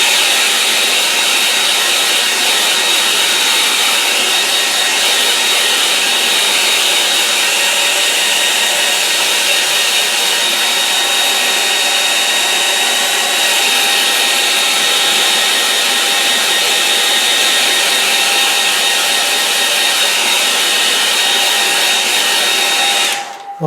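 Hair dryer drying a watercolour-style painting, a loud steady blowing whir running continuously close to the mic, cutting off abruptly at the very end.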